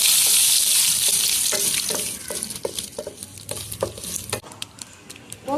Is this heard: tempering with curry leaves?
yes